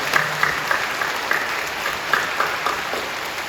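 Church congregation applauding during a worship service, a steady wash of clapping from a large room with a few louder individual claps standing out, moderately loud and continuous.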